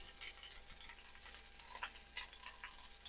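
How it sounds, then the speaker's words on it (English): Pork chops searing in ghee in a pan, a quiet, continuous sizzle with soft crackles and small pops, heard from a short distance. "So we'll let those get a nice little sear on them."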